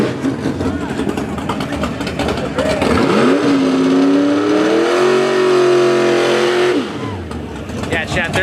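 A drag racing car launches at a dragway and pops a wheelie, its engine revving loud and rising in pitch for a few seconds before cutting off, amid a noisy crowd and outdoor background.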